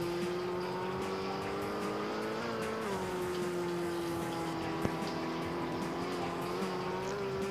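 A motorbike engine in a bike racing video game holds a steady high drone throughout, with slight pitch shifts as it revs and a brief click partway through.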